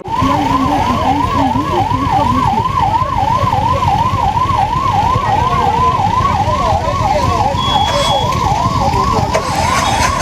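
A wailing ambulance siren rises and falls in a steady, repeating cycle, loud and close, stuck in a traffic jam near Munnar with traffic rumbling beneath it throughout.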